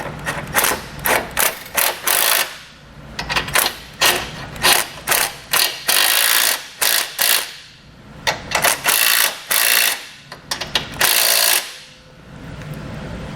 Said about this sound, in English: now we swapped over to a 15mm socket for the 2 bolts that are here